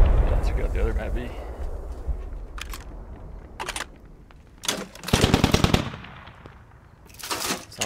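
Bursts of machine gun fire ring out in the military shooter game Squad, set in a Middle East battle with tanks, firing in rapid staccato volleys against a rumbling background.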